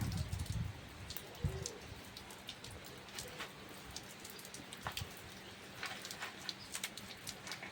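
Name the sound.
rain falling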